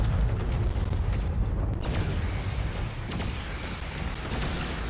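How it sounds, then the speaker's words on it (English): Airstrike explosions in a shooting video game, a dense, continuous roar of booming blasts with a few sharper bursts, heavy and sustained throughout. "Someone using an airstrike."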